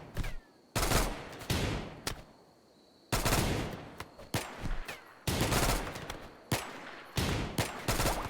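Bursts of RimWorld gunfire ring out in sharp volleys and rapid strings, loud and close, separated by short quiet gaps.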